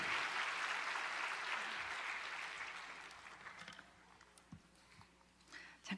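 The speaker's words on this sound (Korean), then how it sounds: "오늘 나오실 때 힘찬 박수 맞이하겠습니다." Warm, fairly faint applause from a church congregation welcoming a Korean pastor to the stage, a dense patter of hands that gradually fades out, leaving a few scattered thumps and shuffles.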